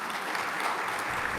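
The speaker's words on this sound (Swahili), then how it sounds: "ningeomba kutumia nafasi hii kuwaomba wakupigie makofi mengi sana sana sana" Sustained applause from a seated audience honouring a guest of honour at a Kiswahili language event, dense steady clapping filling the whole stretch without speech.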